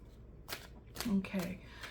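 Tarot cards being shuffled by hand in a few soft, close riffles, quiet and brief, in a calm indoor setting.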